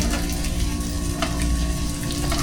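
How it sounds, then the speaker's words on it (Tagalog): Steady, dense sizzling of flour-battered string beans frying in hot oil, close and continuous, with faint crackles and no talking. "Sabay, prito na."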